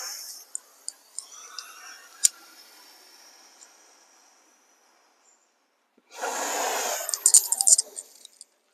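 Breath pushed out during a yoga session, a breathy hiss that swells and holds for a couple of seconds near the end, after quieter clicks and faint rustling.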